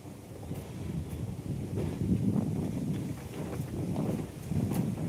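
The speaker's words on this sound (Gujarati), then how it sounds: "પવન એટલો છે ને ઠંડી" Strong cold wind buffets the microphone in a continuous low roar that swells in gusts, with nothing else audible.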